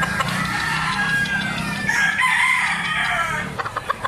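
A Gilmore Gray gamefowl rooster crows once, a loud, close, drawn-out cock-a-doodle-doo lasting several seconds, followed by a few soft clucks at the end, with no voices.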